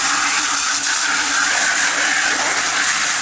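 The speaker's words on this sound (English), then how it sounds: "And now I just rinse out the bucket." Water rinses out a drywall mud bucket as a loud, continuous rushing hiss. The spray holds steady from start to finish, close up.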